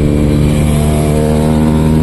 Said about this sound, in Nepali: म पनि बाइक अलिअलि कुदाउनु पर्यो अब